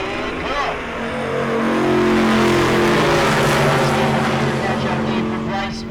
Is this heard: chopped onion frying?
no